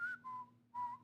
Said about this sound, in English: I learned how to whistle because of that song